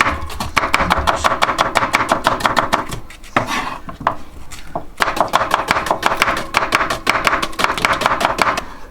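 Fast, steady knife chops through vegetables on a cutting board, loud and close, with a brief pause midway before the rhythmic chopping resumes.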